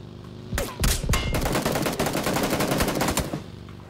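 Rapid automatic gunfire from weapons in PUBG on Xbox, Erangel map, starting with a few separate loud shots and then a sustained burst of fast, close, loud firing that cuts off near the end, with no talk.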